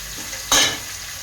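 Ginger garlic paste hits hot oil in a pan while making mushroom fried rice, setting off a sudden loud sizzle that flares and then settles into a steady frying hiss.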